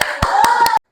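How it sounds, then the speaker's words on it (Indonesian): A sixth-grade elementary school class claps together in a quick, even rhythm of four sharp, close claps over a sustained tonal hum, then stops abruptly. "Tepuk tangan"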